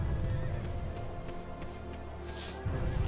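A horse from Shadow of the Colossus gives a faint neigh and whinny as hooves clip-clop softly underneath, heard quietly within the game's ambient sound.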